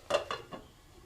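A lid goes onto a cooking pot of broken-wheat upma, with a few close, quick metallic clinks and clatters in the first half-second and then quiet.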